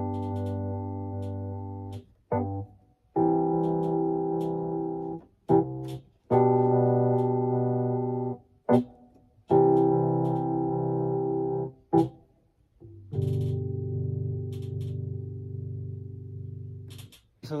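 A Roland FP-30X digital piano set to an alternate sound voice plays sustained chords in separate phrases, with short pauses and a few brief bright hits between them, close and clear with no talking.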